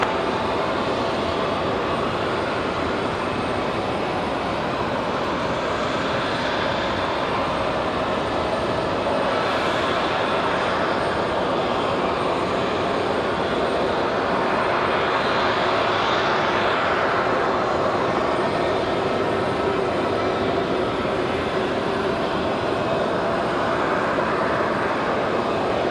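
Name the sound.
airplane landing on runway at Raleigh-Durham airport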